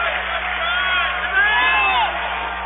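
Redbird home basketball crowd roaring and whooping after the team's first three-pointer, a steady loud cheer with shrill yells rising above it throughout.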